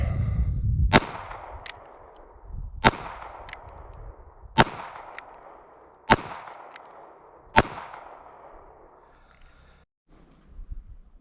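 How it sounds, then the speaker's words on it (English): A North American Arms Mini Revolver in .22 Magnum, fitted with a holster grip, fires five sharp, loud shots at a slow, even pace, each followed by a short echo from an outdoor range. "now we're going to try the North American Arms Mini Revolver 22 Magnum with the holster grip"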